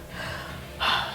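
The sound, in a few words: gasping for breath after exercise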